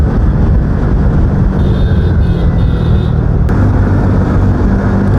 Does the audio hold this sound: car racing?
yes